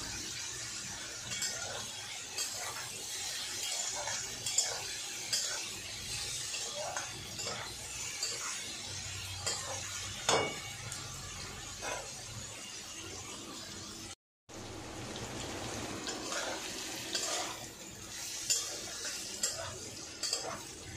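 Green chili goes into a pan with turmeric and sizzles in a steady, hissy fry, with occasional scrapes and clinks of a utensil against the pan and a brief dropout partway through.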